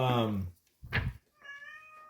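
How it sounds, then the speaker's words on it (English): Domestic cat meowing loudly and close at the start, then a second shorter cry, with a person speaking afterward. "Bad kitty."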